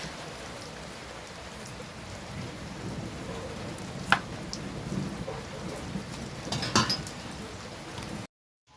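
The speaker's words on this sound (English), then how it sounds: "And it has started raining," Rain falls steadily in the countryside with a soft, constant patter on surfaces, broken by a few distant rumbles and sharper knocks before the sound cuts off abruptly.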